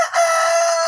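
A newly arrived breeder rooster crows loudly and close, one sustained, strained call that lasts the whole brief moment with nothing else heard.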